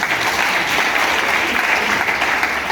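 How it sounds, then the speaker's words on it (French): Loud, dense applause from a crowd at a local office investiture ceremony in Tiassalé, cheering for the village of Taboitien. The clapping is steady and sustained with no pauses. "que je souhaiterais qu'on applaudisse très fort"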